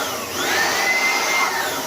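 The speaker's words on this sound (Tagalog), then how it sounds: "Binubuga namin ng blower." An electric blower drying out a shop flooded by Typhoon Carina, producing a steady, loud whooshing whine that holds evenly for the whole moment without any talking.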